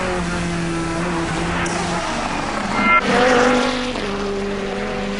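Onboard the number 50 GT race car at Silverstone, a steady loud engine drone that shifts pitch through gear changes, with a brief burst of tire and wind noise mid-run.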